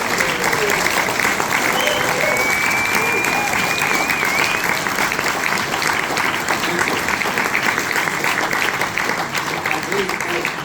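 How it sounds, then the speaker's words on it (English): Audience at a village carol festival applauds the Glen Rock Carolers, a dense, steady wash of clapping that holds loud and even throughout, with a faint whistle or voice rising briefly over it early on. "Can we give them a big round of applause?"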